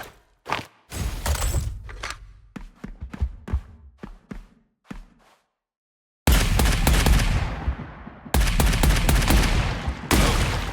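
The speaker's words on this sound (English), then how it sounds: "A milligrade grunt assault rifle." Assault rifle fire in the video game Arcadegeddon: scattered single shots and short bursts, then loud, dense sustained automatic volleys dominating the second half, with brief pauses between them.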